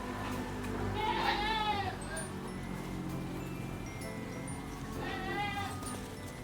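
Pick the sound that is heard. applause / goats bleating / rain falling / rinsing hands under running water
goats bleating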